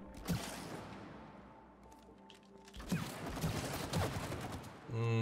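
Gunfire in the video game It Takes Two, heard as bursts of shots and impacts in two clusters separated by a brief quieter stretch, fairly faint and cluttered.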